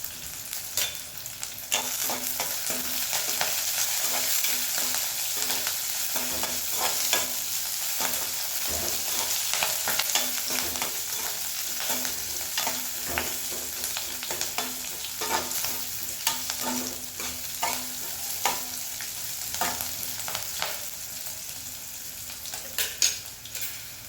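Curry leaves frying in hot oil in a pan for poori masala, a steady crackling sizzle with occasional stirring scrapes throughout, no voices.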